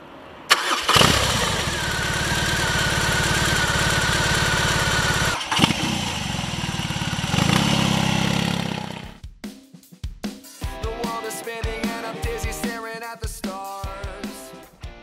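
A chrome, classic-styled 2020 BMW R18 cruiser with its German boxer engine starts and roars steadily for about eight seconds, then is blipped through a series of sharp, rhythmic revs up close.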